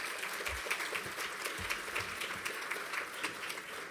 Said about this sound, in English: Right, round of applause.